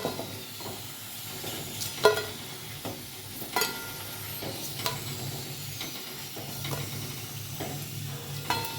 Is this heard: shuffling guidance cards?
no